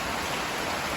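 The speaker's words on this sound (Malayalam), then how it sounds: "മഴ ഇങ്ങനെ പെയ്തോണ്ടിരിക്കാണ്." Light rain falls steadily outdoors, a soft continuous hiss of drops pattering on surfaces, even and close, with no voices.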